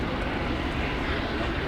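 A US Air Force Boeing CV-22B Osprey tilt-rotor aircraft at an air show roars steadily overhead, a broad sustained engine and rotor rumble with no distinct beats.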